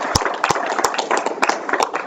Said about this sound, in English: So let's give her a round of applause as well.